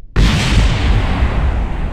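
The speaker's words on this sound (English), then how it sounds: "Well, I guess another explosion." A loud explosion in Kerbal Space Program bursts in suddenly and holds as a sustained, heavy rumbling roar for nearly two seconds, with no other sounds alongside it.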